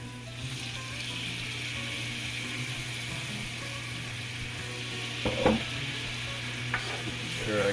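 Lamb chops sizzle in a pan as peach balsamic glaze goes in, a steady close frying hiss over a low hum, broken by a few clanks of a utensil near the end.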